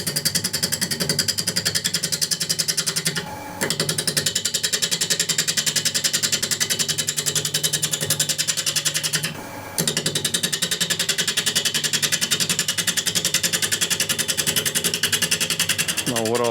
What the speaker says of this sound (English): So this is now running at 650,